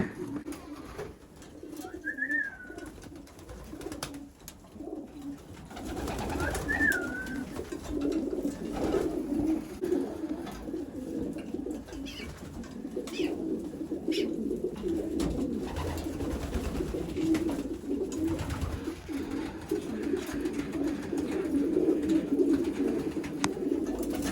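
Racing pigeons coo in repeated low, throaty phrases that run steadily through the whole stretch, close by, with a few brief higher calls.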